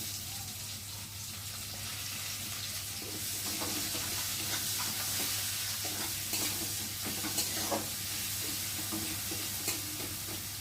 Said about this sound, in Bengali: এবার দিয়ে দেবো কুচানো পেঁয়াজ।